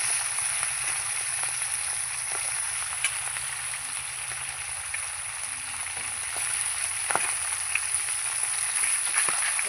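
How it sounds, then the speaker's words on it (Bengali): Catla fish heads frying in hot oil give a steady, close crackling sizzle with scattered pops and spatters, continuous and fairly even throughout. "যে তেল আমার গরম হয়ে গেছে, এবার মাছের মাথাটা দিয়ে দেবো। সব মাথাটাই আমি দিয়ে দেবো, একসাথে আমি মাথাগুলো ভেজে নেব।"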